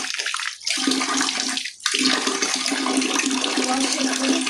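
Water runs steadily from a tap during washing, a loud continuous rush with two brief pauses where the flow cuts off before resuming.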